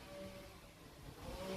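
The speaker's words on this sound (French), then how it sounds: "ça souffle les feuilles là" An outdoor power tool, either a leaf blower or a trimmer, runs with a steady engine drone that holds through the moment and swells slightly near the end, moderately distant, with no talking over it.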